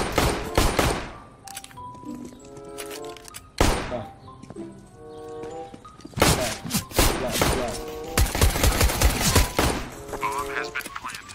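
Rapid automatic gunfire in the shooter game CS:GO, with loud, close bursts of rifle shots and heavy thumps clustered in volleys and separated by short gaps, while players talk underneath.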